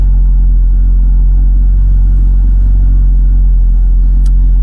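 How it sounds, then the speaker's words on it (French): Ferrari 488 GTB V8 with its exhaust valves held open, a loud, close, continuous deep engine rumble that holds steady for several seconds with no voices. "On sent bien que il y a un V8 là"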